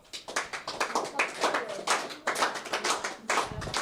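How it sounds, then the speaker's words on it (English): An audience at a children's journalism training graduation ceremony claps hands, a steady run of quick overlapping claps, fairly faint, lasting throughout. "So, let us clap our hands."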